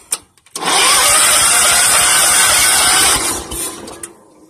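A John Deere 214 lawn tractor engine cranks and catches after a couple of brief clicks, then runs loudly and roughly for a few seconds before dying down, with faint knocks trailing at the end.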